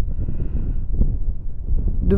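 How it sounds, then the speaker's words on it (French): Low, rumbling ocean wind on the Cotentin coast buffets the microphone steadily throughout, with a brief brighter gust rising near the end. "parce qu'on a beaucoup de vent"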